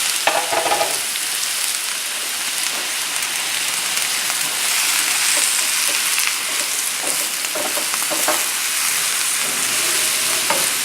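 Shrimp and brown rice fry in a pan with a steady, close sizzle and crackle, punctuated by occasional stirring scrapes and clicks.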